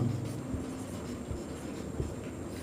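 Chalk or marker scratches continuously across a classroom board during a Class 10 Sanskrit lesson, with a steady, faint, dull rustle and no talking.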